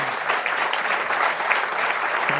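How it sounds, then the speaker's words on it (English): Steady applause from a conference audience for a panel of practitioners at the close of a session on European joint and double degree programmes, a dense, even patter of many hands clapping throughout with no talk. "Please join in applauding my great practitioners,"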